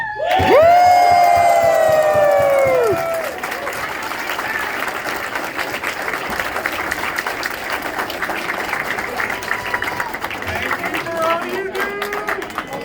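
A crowd at a drift racing team's banquet awards ceremony bursts into loud cheering and whoops, then settles into sustained applause and clapping that carries on for several seconds, with excited voices mixed in.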